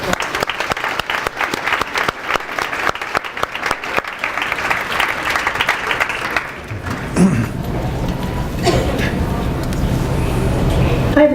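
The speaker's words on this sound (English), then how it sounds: "join me in giving them a round of applause" A town hall audience gives a round of applause, a dense, loud patter of many hands that thins out after about six seconds into crowd murmur and voices.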